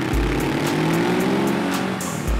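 A 2016 Ducati Hypermotard 939 motorcycle engine drones steadily and climbs in pitch as it accelerates, loud and close, with a few sharp clicks over the top.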